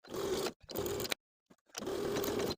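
Close sewing machine whirring on pant seams in three separate runs with brief pauses between, the stop-start pattern of backstitching at a marked point; moderately quiet, with no voices.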